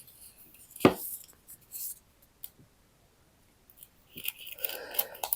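Scissors snip the edge of a roll of washi tape in a few sharp, close cuts, with quiet crinkling and handling of the shiny tape between them.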